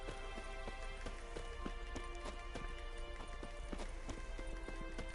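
Hooves of Roach, a horse in a video game, clip-clop in a steady trotting rhythm over a faint, constant hiss of rain or ambient game sound, fairly quiet and with no talking.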